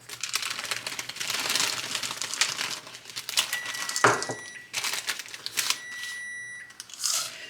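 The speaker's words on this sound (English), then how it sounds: "Their stove is beeping for my cookies." An oven timer beeps in two short runs for baking cookies amid crinkling and clattering kitchen noise, fairly close.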